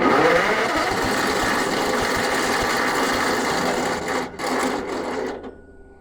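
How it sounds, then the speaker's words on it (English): A wood chipper's engine starter cranks with a steady, high, buzzing whir that fails to disengage, running loud and continuous for about five seconds before cutting off abruptly, close to the listener with no speech. "that sounded like the starter didn't disengage."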